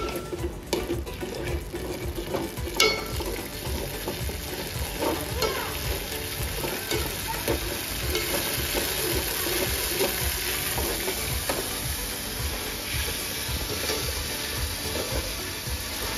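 Schezwan sauce being stirred and fried in a pan for paneer pakoras, a continuous sizzle and bubbling with repeated spatula scrapes, close and fairly loud throughout, with no voices.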